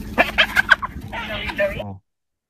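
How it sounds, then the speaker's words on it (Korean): A hyena calls in a quick run of cackling, gobbling yelps that sound almost like a chicken or turkey, close and fairly loud, cutting off abruptly after about two seconds. "하이에나는 이렇게 운다."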